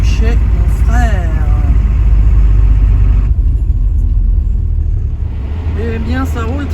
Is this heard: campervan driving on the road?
yes